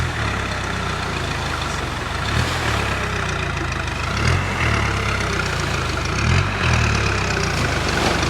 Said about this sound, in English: the tractor's got stuck in.